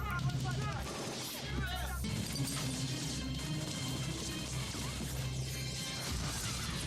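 A grenade explosion in a movie scene bursts as a loud crash, a short heavy blast and rumble, with people talking over and after it.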